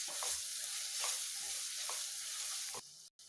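Chilli powder and asafoetida sizzle steadily in hot oil in a pan for garlic gravy, with a spoon stirring in four soft, regular scrapes before the frying briefly drops out.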